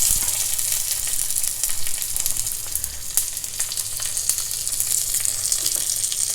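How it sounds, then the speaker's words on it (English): Hot oil sizzles and crackles steadily up close as mustard seeds are added to a pan, with scattered sharp pops of seeds spattering. "Now heat a teaspoon of oil in a pan. Add some mustard seeds."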